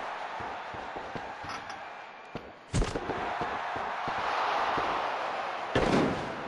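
A wrestler is slammed through a table in a wrestling video game, with two sharp crashing impacts over a loud, steady crowd roar.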